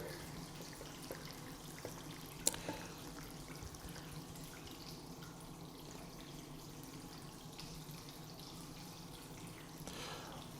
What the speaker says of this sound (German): Und jetzt lasse ich das mit Wasser auffüllen.